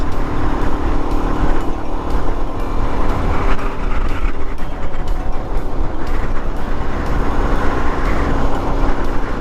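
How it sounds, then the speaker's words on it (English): Strong wind buffets loudly and constantly against a rider on a Suzuki DRZ400 dual-sport motorcycle, a heavy rumbling roar close to the microphone, with no speech. "it is windy, man. It's pushing me all around."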